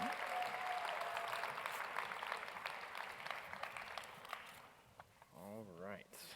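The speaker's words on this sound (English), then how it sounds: "round of applause for them" Audience applause for competition finalists at a live awards event, a dense, steady clatter of many hands that fades out near the end, with a voice speaking over the closing moments.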